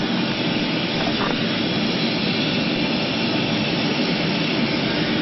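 Passenger airliner jet engines roar steadily during takeoff at night, a loud, continuous broadband rumble heard from inside the cabin with no talking.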